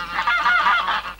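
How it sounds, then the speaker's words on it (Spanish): Wild goose honking in an animated cartoon, a loud close run of nasal honks in quick succession with brief dips between calls, no speech over it. "Es nuestro ganso."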